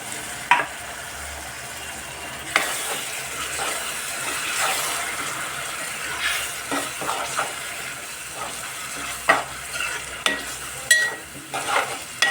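Blended tomato gravy goes into a hot pan for a Godavari-style fish curry, giving a sustained sizzle with wet splashes and sharp knocks of a spoon stirring, up close and without talk.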